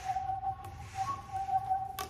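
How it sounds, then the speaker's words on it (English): Thin, steady whistle from a small orange pop tube fidget toy, a mini version smaller than the usual size, holding a clear tone with brief breaks across about two seconds, fairly quiet and with no talking. "I love that whistle noise."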